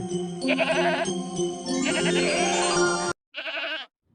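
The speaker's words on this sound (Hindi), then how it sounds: "यह तो बकरी के चिल्लाने की आवाज है" A goat bleats loudly and repeatedly up close, wavering cries running together, then a brief pause before one more shorter bleat.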